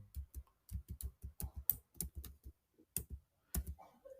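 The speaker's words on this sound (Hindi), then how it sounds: "तो हम लोग यहाँ से टाइप करेंगे" Fingers tap on a computer keyboard in a quiet room, with short irregular bursts of crisp clicks, close and fairly soft, separated by brief pauses.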